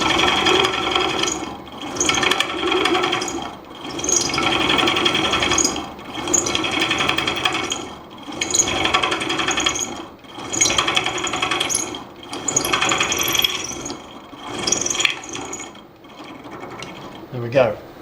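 A drill working to remove broken studs from an aluminium oil housing, heard as loud grinding, whirring bursts in an uneven series of pulses with short pauses, and a voice talking over the machine.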